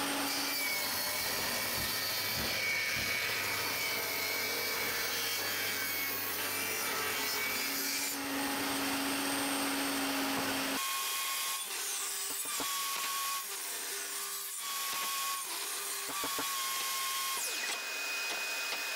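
A power tool recuts a wooden chessboard box, a loud continuous whining and rasping saw sound that holds for about eleven seconds, then changes to a different steady tone with a higher pitched hum.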